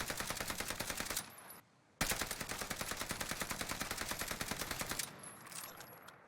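Sustained machine gun fire from a weapon fitted with a polymer rear grip in Call of Duty Warzone: a long, rapid, evenly spaced burst, a brief pause, then another long steady burst that stops abruptly, loud and close.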